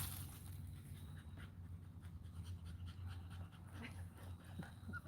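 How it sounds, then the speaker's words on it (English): A dog pants rapidly and rhythmically, soft quick breaths repeating steadily over a faint low background, fairly close with no talk. "I'm hearing panting."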